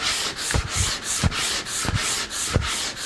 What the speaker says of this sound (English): Nothing to it with 80 grit sandpaper.